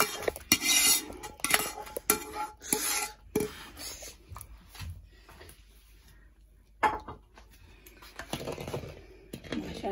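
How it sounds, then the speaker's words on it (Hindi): Dal being mixed in a pan, with clattering scrapes and knocks of a spoon against metal in irregular bursts, close by, separated by quieter pauses and without talk. "अब ये जो पैन के अंदर है इसमें दाल डालेंगे। इसको भी ऐसे मिक्स करके वापस इसमें डालेंगे।"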